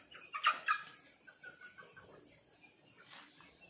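Chickens cluck softly in short bursts, a few sharper calls near the start, fairly close and otherwise quiet.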